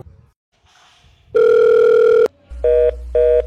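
An unanswered phone call: one long, loud ringback tone, a pause, then two shorter repeated ring bursts over a low hum, with faint rustling at the start and no one picking up.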